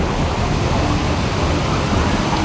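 Heavy rain pours steadily on a bus during a rainy homecoming-season departure, a dense, continuous hiss of water with no break, close and loud throughout.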